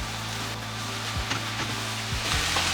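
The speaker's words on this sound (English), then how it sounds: "Again, mix this in well." A spoon scraping and stirring plain flour into chilli con carne in a pan, with soft sizzling underneath and a few distinct knocks against the pan, close by and without speech.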